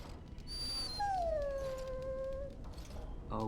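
A dog whines in the video game Dragon Age: Origins: one long, high, wavering whimper that slowly slides downward and holds for over a second against a low, steady background rumble.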